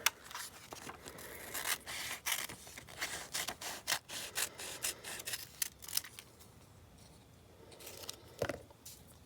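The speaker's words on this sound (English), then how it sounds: "I'm just going to trim around my figure and the tape." Scissors snip repeatedly while trimming packing tape around a figure cut from an old magazine page, quick close crisp cuts in uneven bursts with a quieter stretch near the end.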